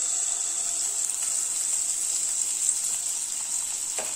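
Sweet appam batter poured into hot oil, giving a continuous bright, hissing sizzle that stays steady and close throughout, with a faint bubbling crackle underneath and no talking.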